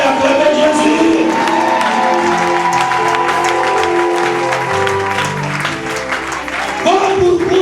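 Church congregation at Eglise Prince de Paix in Libreville applauds and cheers for Jesus, a loud, sustained wash of clapping and voices mixed with a strong speaking voice on top throughout.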